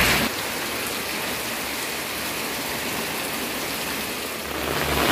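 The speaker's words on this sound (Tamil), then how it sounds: "காலையில இருந்த சூழலோட கூடிய மழை" Heavy rain pours down outdoors in Jaffna, a dense, continuous hiss of drops striking surfaces, loud and steady throughout, swelling slightly toward the end.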